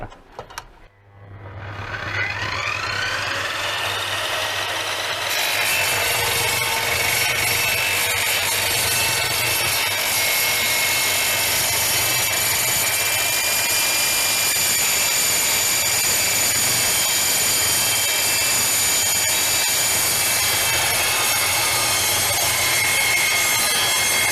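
A GTM miter saw spins up and bites into a 2 mm metal profile, its loud, steady whine and grinding screech holding for over twenty seconds at close range with no talk.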